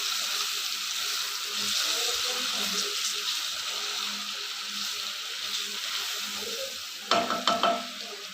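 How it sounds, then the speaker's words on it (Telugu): Paneer pieces frying in a large kadai, a steady close sizzle with light stirring, ending in a few sharp clatters of the utensil against the pan. "ఇలా పన్నీర్ వేసుకొని వీటిని కొద్దిగా ఫ్రై చేసుకోవాలి"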